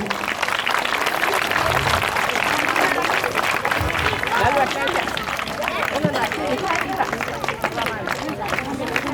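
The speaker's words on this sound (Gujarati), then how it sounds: "આપણે તાળીઓના જોરદાર ગડગડાટથી એમનું સ્વાગત કરીશું" An audience at an annual function applauds to welcome guests, sustained clapping over a busy hall with overlapping voices, loud and continuous.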